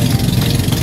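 Twin outboard engines on a Filipino bangka motor boat run steadily at speed during a Leyte to Bohol crossing, a loud continuous low drone with no break.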